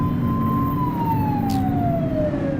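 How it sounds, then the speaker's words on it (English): A police car siren wails in the video game The Precinct, a steady descending tone over a loud rumbling engine and road noise, close and continuous. "Turn that siren off."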